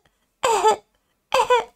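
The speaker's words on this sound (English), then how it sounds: "Soo-min's just over there coughing" Two short, sharp coughs from someone just pulled from water, close and loud, separated by a brief silence, with no talk.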